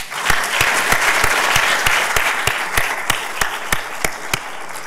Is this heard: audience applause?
yes